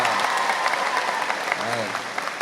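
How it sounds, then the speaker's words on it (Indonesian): Lively applause from a school crowd at a senior high school in Jepara during a ministerial visit: a dense, sustained wash of many hands clapping, with a voice briefly audible over it. "Tepuk tangan yang meriah."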